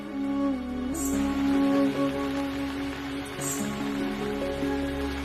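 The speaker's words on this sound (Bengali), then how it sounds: "ডাক্তারবাবু দেখুন বৃষ্টি পড়ছে" Steady rain falls in a dense, even hiss that runs the whole time beneath sustained background music.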